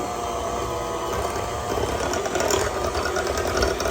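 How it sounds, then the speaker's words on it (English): An electric mixer runs on low, mixing low-carb, gluten-free, sugar-free peanut butter cookie dough. It gives a steady, close, whirring motor drone with a faint rhythmic chatter for the whole stretch, with no talking over it. "I'm going to actually use the mixer on low"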